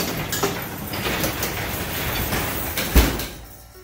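Garage door being pulled shut by hand, a continuous rumbling, rattling roll of the panels along the tracks ending in a firm thud as it closes, fairly close and loud with no talk.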